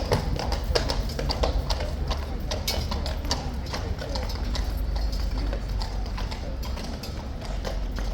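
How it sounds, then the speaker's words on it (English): Royal Guard horses' hooves clip-clop steadily on hard ground, a continuous run of sharp close taps over a busy outdoor background. "So the horse nearest to us is Guard, and the other horse is Revolver."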